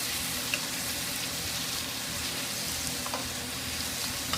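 Steak searing and being basted in a pan, a dense continuous sizzle with faint spoon clinks, close and steady with no talk.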